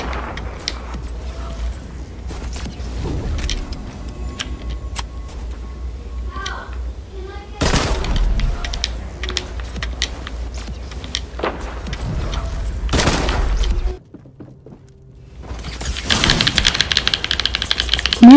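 Rapid bursts of gunfire in Fortnite, including sniper-style shots, come in loud clusters with short pauses, mixed with other game sounds and a person talking.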